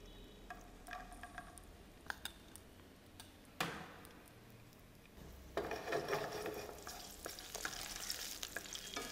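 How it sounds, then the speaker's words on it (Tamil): Raisins sizzle in hot ghee for tender coconut payasam, a quiet steady frying with sharp ticks and stirring clicks that grows louder and busier toward the end. "ஸோ நெய் நல்லா சூடாகிடணுன்னே நம்ம அதில் இந்த திராட்சையை ஃபஸ்ட்டு போடுறோம்."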